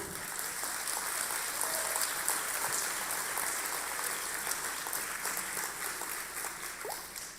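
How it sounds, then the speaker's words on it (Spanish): Steady applause from a church congregation, sustained evenly for several seconds with no talking over it. "Vamos a darle un fuerte aplauso al Señor."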